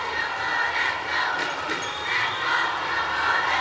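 A Singapore stadium crowd at the SEA Games 2015 swimming races roars with a steady, loud wash of cheering that swells and stays sustained throughout.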